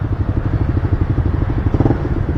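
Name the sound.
motorcycle with Yoshimura R11 exhaust pipe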